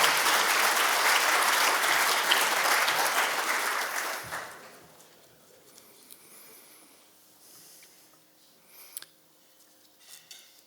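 Audience applause welcoming speaker Burke Whitman at an Armed Services and Veterans Day program, loud sustained clapping for about four seconds that quickly fades into a quiet room with a few faint scattered sounds.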